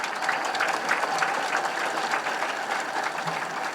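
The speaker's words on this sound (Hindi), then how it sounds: "एक बार जोरदार तालियों से स्वागत कर लें आप सब।" An audience at an inauguration ceremony for a new disaster management headquarters in Uttar Pradesh applauds, a steady, even wash of many hands clapping, moderately loud and continuous from start to finish.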